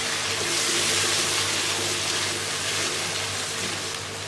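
Chickpea cooking water poured into spices frying in a pan for white chole salan, a steady close gushing, sizzling wash of liquid running for several seconds without talk.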